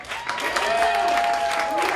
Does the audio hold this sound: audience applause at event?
yes